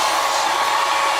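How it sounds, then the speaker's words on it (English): A hair dryer blows steadily at close range, drying hair under a cap in one continuous, loud, even whir. "just wanted to like dry inside the cap real quick"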